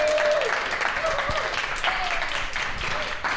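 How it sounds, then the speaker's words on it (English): A live audience in a hotel event room applauds, a continuous, fairly loud wash of clapping with a voice speaking over it. "Please join me by making noise and clapping throughout"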